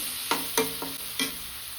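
Green chillies frying in a pan for a sprouted green gram palya, a constant sizzling hiss broken by four sharp spatula strokes against the pan, close and with no voices.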